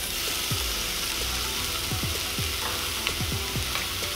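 Steak fajita meat sizzling on a Presto indoor griddle, with a constant, close, hissing fry and small pops and scraping clicks as it is stirred, with no talking.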